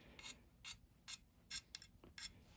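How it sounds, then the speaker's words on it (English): A steel card scraper drags across a fingernail in a quick series of about seven short, bright scratchy strokes, close and quiet, with pauses between strokes and no talking. "If I were to scrape here,"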